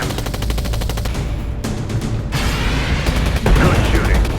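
Rapid automatic gunfire rattles through a war movie scene, with dense machine-gun bursts and booming shots blending into a loud, continuous barrage.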